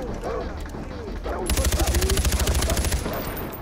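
Rapid automatic gunfire in Far Cry 4 during a fortress assault, a dense burst of evenly spaced shots lasting about a second and a half, preceded by quieter game ambience and someone talking.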